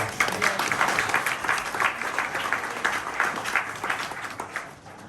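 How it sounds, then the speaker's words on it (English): Pub audience at a Politics in the Pub talk on rough sleeping in Fremantle claps to welcome a guest speaker, a brief burst of many hands that swells early and gradually tapers off. "Please give a round of applause to Traci."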